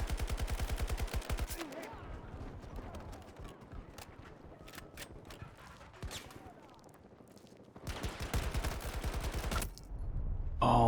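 Bursts of rapid gunfire from a newly tried weapon in a tank-and-vehicle shooter game, loud and dense at the start and again near the end, with quieter game ambience and scattered shots between.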